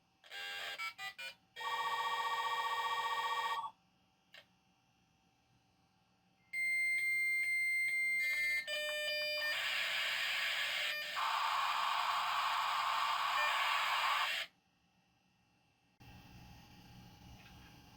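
A dial-up modem places a call over a home telephone network, with a quick dialing sequence of tones followed by a steady carrier tone. Harsh bursts of handshake tones and screeching noise come next, then a short hiss.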